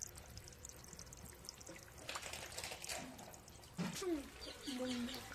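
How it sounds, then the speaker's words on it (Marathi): Dirty, silty water drains out of a tank being cleaned, a low continuous pouring and trickling rush with a few brief bird calls over it, no speech. "हे बघा किती घाण पाणी निघायला लागले"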